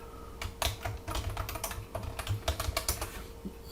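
A command is typed at a computer command prompt as a quick, irregular run of soft keyboard clicks, heard close and quietly over a faint steady hum.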